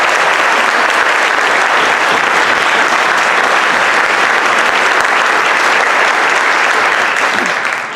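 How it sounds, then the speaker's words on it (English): Loud, close, continuous applause fills a school sports awards ceremony, a thick, unbroken roar of many hands clapping for about eight seconds before easing at the very end. "I'd like to ask everyone to give them a big round of applause."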